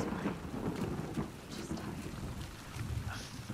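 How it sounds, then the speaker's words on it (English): In The Last of Us Part II, a thunderstorm plays out as a low rumble of thunder over steady falling rain, fairly quiet and continuous, with no speech. "lightning and the thunder"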